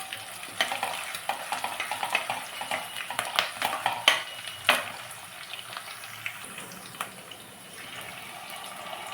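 Chopped onions sizzle softly in a pan for a Nellore-style fish curry, with steady frying hiss broken by scraping and stirring clatter, fairly quiet and without speech.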